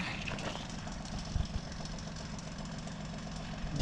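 A tractor engine idles nearby with a steady low rumble and faint knocking pulses, holding a constant level with a few small bumps.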